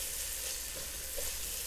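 Onions and mixed vegetables for beef with cashews fry in a pan, a soft steady sizzle throughout, faint and continuous with no talk.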